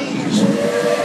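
Steam-powered locomotive of the Disneyland Railroad at dusk, heard as a short steady hissing whistle tone with steam hiss, close and fairly loud for about a second.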